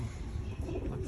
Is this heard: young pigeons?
yes